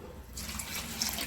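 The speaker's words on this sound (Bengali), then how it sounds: "গুড়ের জন্য আমি 3 বাটি জল দেব।" Tap water runs steadily into a bowl to make water for melting 400 grams of jaggery, a soft continuous splashing stream, close and moderately quiet.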